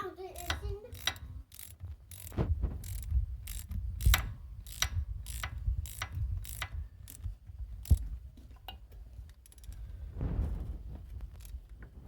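Ratchet wrench tightening a banjo bolt on a Jeep TJ brake line during a brake job, rapid sharp clicking strokes in bursts with short pauses, close and crisp.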